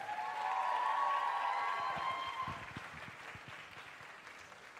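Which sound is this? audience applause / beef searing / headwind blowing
audience applause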